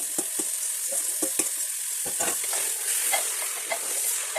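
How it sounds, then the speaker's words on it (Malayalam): Masala-marinated chicken sizzling loudly in a hot pressure cooker, with frequent quick scraping strokes of stirring, close and continuous. "നമ്മൾ മസാല പുരട്ടി വെച്ചിരിക്കുന്ന ചിക്കൻ അതിലേക്ക് ചേർത്ത് മിക്സ് ചെയ്യുക"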